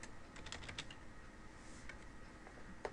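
Quiet, steady computer keyboard typing, a run of light rapid key clicks with small pauses, heard alone at a low level.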